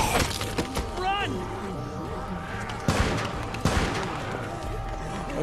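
Gunfire crackles in a scene from The Walking Dead, a few sharp bursts cutting through tense shouting voices and background music, moderately loud and close.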